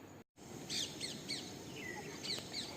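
Small birds chirp faintly outdoors in a series of short, high, quick calls spread across a steady background hiss.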